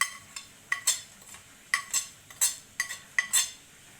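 A spoon stirs spices and green chutney into a yogurt marinade for chicken roast. It makes repeated light scraping and clinking strokes against the bowl in an uneven rhythm, close and fairly quiet.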